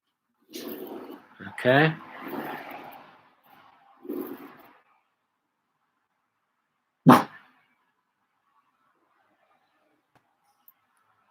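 A dog barks and whimpers at passersby in a few short bursts, fairly near, followed by one sharp bark after a pause, with a brief spoken word between.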